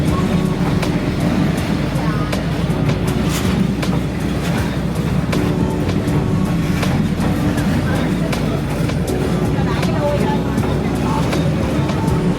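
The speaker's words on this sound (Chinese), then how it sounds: "距离火车大约只有1个手臂长，真是非常的靠近" A train rumbles past at arm's length on Hanoi's train street, a loud continuous roar with rattling and a steady low drone filling the whole stretch, with crowd voices mixed in.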